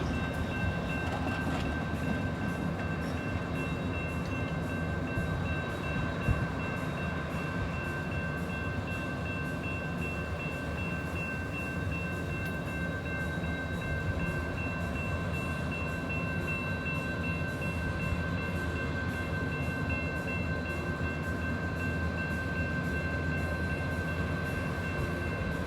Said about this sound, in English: So here it is, Amtrak Capital Corridor, making its way here in Oakland Jack London Square